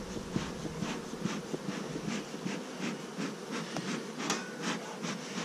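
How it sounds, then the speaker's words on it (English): Russian honeybees with a Buckfast queen hum steadily at an open hive during an inspection, a dense, continuous buzz close by with no talk over it. "These are Russian bees and a buckfast queen."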